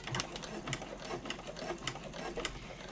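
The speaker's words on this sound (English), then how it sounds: "backstitch really well all the way to the top, and then stitch down the side at a 1/4 inch seam allowance" A sewing machine stitching a French seam at a quarter-inch allowance, running steadily and close by with a rapid, even needle rhythm throughout.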